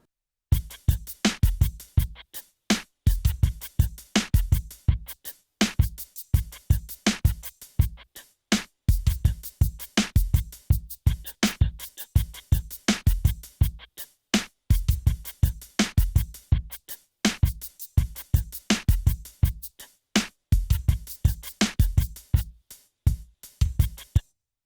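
Drum rhythm from the breakdown of a song with closed hi-hat sounds, played as repeated bars of punchy beats and short ticks separated by brief silences, loud and dry, no voices.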